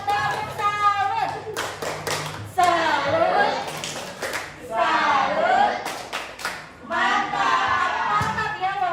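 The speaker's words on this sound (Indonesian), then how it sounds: "Tepuk tangan buat Adam." Classroom applause for a student, with bursts of clapping from the class broken up by children's voices and a teacher speaking over them.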